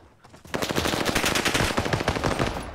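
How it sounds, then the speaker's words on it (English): Automatic gunfire in Call of Duty Modern Warfare (2019), a sudden loud sustained burst of rapid shots that starts after a quiet half second and rattles on close to the end. "He sprayed a few bullets and just ran away"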